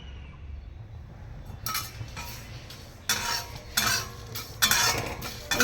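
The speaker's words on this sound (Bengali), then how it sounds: "এই সব মশলাগুলো ভেজে নিচ্ছি।" Dried chilli, fenugreek, nigella and fennel seeds fried and stirred in a pan for mango pickle oil: bursts of close metal spatula scrapes and clinks that grow louder over a low background hiss, with no talking.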